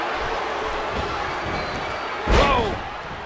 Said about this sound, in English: And did you hear the impact on that kick?